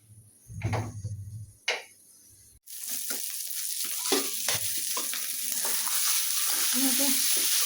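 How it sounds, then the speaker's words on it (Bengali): Spices being sautéed in a pan, starting with a few stirring knocks and scrapes, then breaking into a steady, close sizzle that grows slightly louder. "অনেকক্ষণ হলো কষাইছি"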